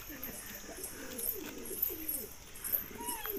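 Pigeons coo softly in repeated low, throaty phrases amid light outdoor background noise.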